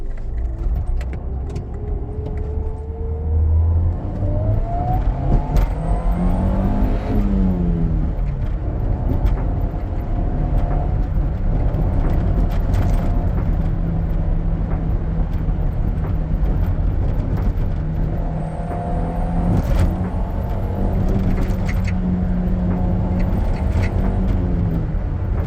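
A Honda Civic EK drives along a winding road, its engine droning from inside the cabin, the revs rising and falling through the turns as road noise rumbles steadily underneath.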